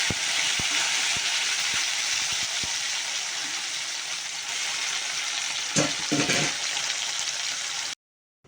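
Fish frying in a pan in a home kitchen gives a steady, loud sizzling hiss with a few faint clinks and stirring scrapes. The sizzle cuts out abruptly near the end.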